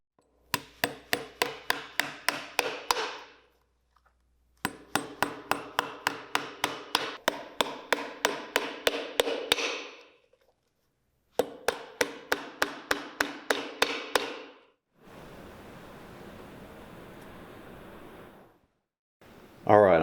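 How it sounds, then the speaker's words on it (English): Hammer blows drive nails through the sole of a JM Weston oxford during shoe repair, falling in three rapid bursts of sharp, evenly spaced strikes separated by pauses, close and loud, with a brief scraping rub near the end. "go ahead and put some nails down through the inside"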